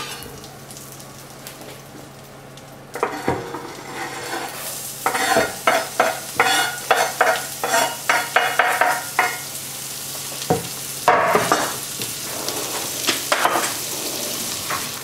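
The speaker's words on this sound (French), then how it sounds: "Hop, on va le faire fondre. Et on va faire revenir les oignons." A single onion fries in melted butter in a pan, a steady sizzle broken by a run of rhythmic scraping stirring strokes in the middle and a few more near the end, close and fairly loud.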